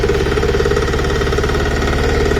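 Kirloskar Mini T8 Deluxe power weeder engine running steadily up close, a loud, continuous, rapidly pulsing small-engine chug with strong vibration and no pauses.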